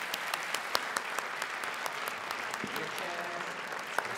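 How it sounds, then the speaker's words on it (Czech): Steady applause from an audience at a gala evening for a student beauty pageant, dense clapping filling the hall at moderate volume, with a few louder individual claps standing out. "Prosím, potlesk."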